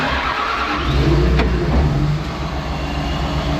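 An abandoned ex-military John Deere 850J dozer diesel engine cranking and catching, a loud low rumble with a brief sharp click partway through, close and steady.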